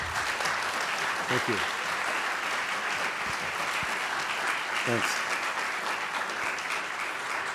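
Sustained applause from a lecture audience closing a speaker-series talk on the economy, steady and full throughout, with a couple of brief spoken thanks heard over it.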